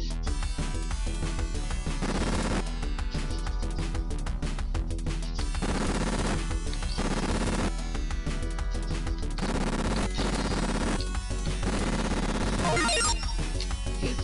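Rapid bursts of video-game gunfire from the Sega Genesis game The Terminator, loud crackling volleys over a constant electronic music bed, without pauses.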